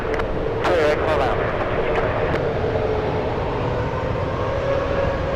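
A jet airliner powering up on a runway at San Francisco International Airport, a loud, steady engine roar heard from a distance with talk over it.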